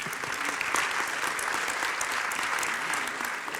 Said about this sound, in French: Vous pouvez l'applaudir si vous voulez.